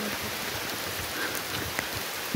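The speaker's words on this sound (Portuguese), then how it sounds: "Chuva! Chuva!" Rain falling steadily outdoors, a continuous broadband patter with a few sharper individual drops standing out near the end, moderately loud and with no voices.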